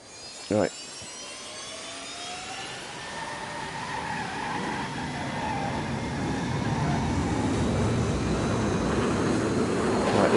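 An enemy plane in a Dreams video game roars as a broad, rising engine drone that swells steadily louder over ten seconds, with a brief sharp knock near the start.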